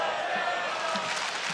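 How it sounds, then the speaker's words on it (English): A large crowd at a StarCraft 2 semifinal in the SAP Center, San Jose, gives a steady roar of cheering that fills the whole moment evenly, broad and sustained with no single voice standing out. "Crowd getting behind Jadon here"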